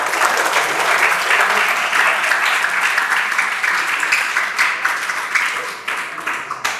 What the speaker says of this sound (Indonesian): Tepuk tangan buat Bangnya Andi Muarif.